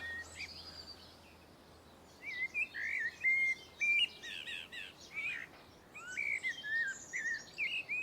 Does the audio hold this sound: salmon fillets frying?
no